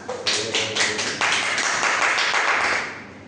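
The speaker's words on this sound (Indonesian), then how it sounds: "Tepuk tangan semuanya" Students applauding together in a classroom lesson, a short, loud wave of clapping that thickens midway and then tapers off at the end.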